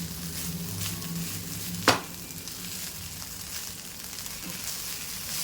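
Chinese chicken fried rice stir-frying over a high flame, giving a steady loud sizzle and hiss with one sharp clank of a utensil against the pan.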